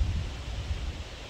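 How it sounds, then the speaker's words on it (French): Strong wind roars steadily during a violent thunderstorm near Grenoble in the Alps, a loud low rumbling buffet across the microphone with no talk. "Oh les gars, le vent."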